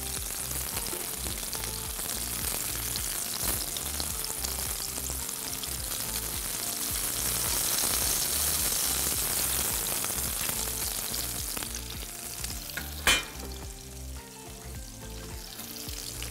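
Burger patties fry in a pan with a strong, continuous sizzle and crackle, swelling in the middle and easing near the end, with a brief clatter late on.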